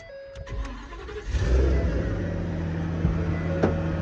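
A big engine cranks and catches, settling into a loud, steady rumbling idle close by, with a few clicks and knocks over it.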